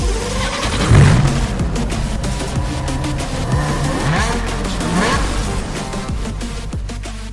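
A 2020 Nissan GT-R with a 565-horsepower 3.8-litre twin-turbo V6 drives steadily, its engine droning loudly and continuously, with a brief swell early on and a rising rev near the end.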